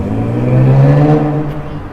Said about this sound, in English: And that car would be much louder on the Sony camera.